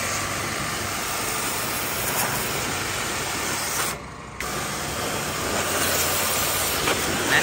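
A pressure washer with an 18mm ceramic-plunger pump and a 3hp single-phase 220V electric motor runs without load, giving a steady, even hiss and hum that briefly dips for a moment before resuming.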